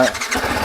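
A TVS Apache RR 310 motorcycle engine cranks and catches in a short burst, settling into a low, close idle rumble.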